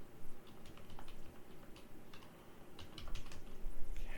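Someone types on a computer keyboard in a quiet room, with continuous irregular clicky keystrokes at a moderate volume. The clatter picks up slightly toward the end.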